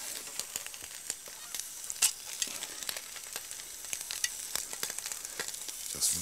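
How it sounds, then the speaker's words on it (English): Goose liver searing on a hot plancha, a steady bright sizzle with scattered crackles and pops throughout, close and fairly quiet, with no talk over it. "try and make a nice little snackette with goose liver. So we're going to sear that."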